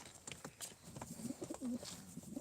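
Soft, low cooing of pigeons, both males and females, close by amid faint background noise and scattered higher chirps.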